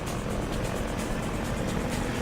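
Helicopter chasing the player in Half-Life 2, a loud, dense rotor roar with rapid beating blades, continuous and close, with no voices.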